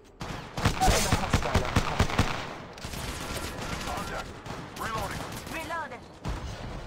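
Gunfire in the mobile shooter Apex Legends Mobile: a quick burst of several close, loud shots in the first few seconds, then quieter game effects and rising electronic tones over a steady background.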